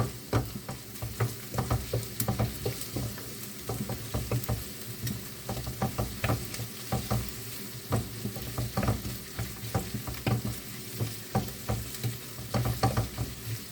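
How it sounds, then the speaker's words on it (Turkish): Onion and tomato paste sautéing in a pan with carrots, a steady sizzle broken by regular rhythmic stirring scrapes throughout, close up and without talk. "Şimdi salçayla soğanı da biraz kavuralım."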